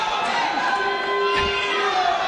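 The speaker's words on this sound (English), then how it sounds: "Boos from the crowd" A football crowd jeers and shouts at a match, a broad roar of many voices with some whistling tones rising through it.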